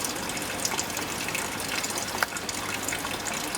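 Water draining from a car's lower radiator hose, a steady close gushing splash with a few small spatters, continuous for the whole stretch and with no talk.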